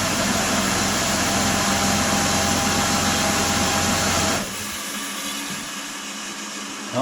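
Micro hydro generator test rig, set to hold 32 volts, spinning up toward 750 RPM: a loud, steady whirring drone with a constant hum, then a sudden drop to a quieter, thinner running tone partway through, as if something cut out.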